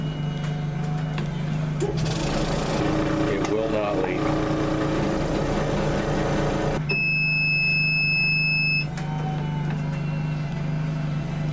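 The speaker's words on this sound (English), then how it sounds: "Hit close, and we'll start the vacuum process." A chamber vacuum sealer hums steadily while processing a package of deer meat, with a loud motor drone, a shift in pitch midway and a high electronic tone near the end, while someone speaks over it.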